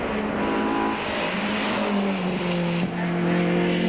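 Race cars at the 24 Hours of Spa-Francorchamps in 1990, including Ford Sierras, roar steadily past with a continuous engine drone and shifting pitch, the loud blur of several cars lapping together.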